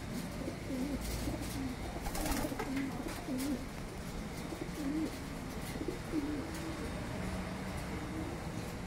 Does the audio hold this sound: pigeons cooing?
yes